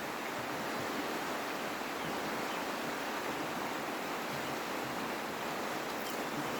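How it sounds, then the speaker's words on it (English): A river running full with snowmelt gives a continuous, even rushing roar of water, steady and unbroken with no talking. "The river is full."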